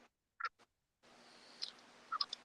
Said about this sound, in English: Hear them crows? There's a murder of crows.